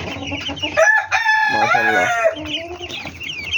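Farm chickens crow and cluck loudly at close range, one long wavering crow standing out over a background of busy fowl calls, with no talk.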